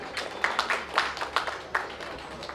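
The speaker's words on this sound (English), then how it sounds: "A round of applause for Sri Krishnamurthy" An audience at a film press meet claps, scattered distinct handclaps in a fairly thin, uneven patter rather than a full ovation.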